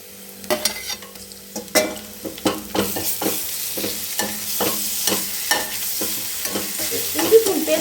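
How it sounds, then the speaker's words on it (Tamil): Golden-brown onions and ginger garlic paste sauté in a pan for egg kothu idly, a spoon knocking and scraping in a brisk, uneven rhythm over a low, continuous sizzle. "இஞ்சி பூண்டு பேஸ்ட் போட்டு நல்லா பச்சை வாசம் போகிற வரைக்கும் வதக்கிக்கலாம்"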